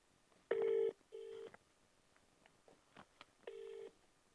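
A telephone dialing out to place a call, with a sequence of distinct keypad tones: a few longer beeps and several short blips, heard clearly in an otherwise quiet room.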